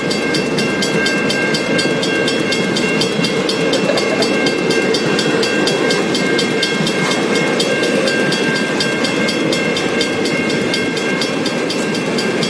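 A Ballarat Beer Festival special train rolls past close by, its steady rumble and rail noise holding loud and continuous throughout with no pauses.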